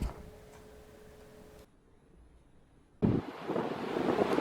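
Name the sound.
wind howling at Sitka fish hatchery, Alaska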